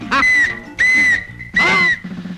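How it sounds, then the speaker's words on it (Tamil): A police whistle is blown in a Tamil comedy film scene: three loud, shrill, steady blasts, each about half a second long, with short gaps between them and no talking. "இது என்னது போலீஸ் விசில் மாதிரி இருக்கு?"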